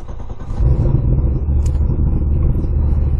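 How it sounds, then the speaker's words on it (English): A car fitted with Holley EFI cranks and fires up, settling into a low, rumbling idle that holds steady and close after the start. "So let's go ahead and start the car."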